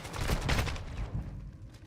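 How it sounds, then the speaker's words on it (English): A flashbang grenade goes off in Call of Duty, a burst of sharp cracks and bangs in quick succession that fade into a quieter tail, moderately faint and heard alone. "Eat my flashbang"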